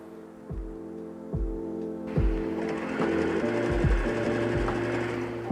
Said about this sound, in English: So now I'm just sewing all the pieces together and stretching it out